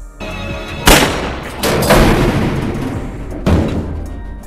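A gunshot from the film Oldboy, where a man shoots himself, rings out as a sharp loud bang with long reverberant decay, followed by further heavy blasts in a dramatic soundtrack mix.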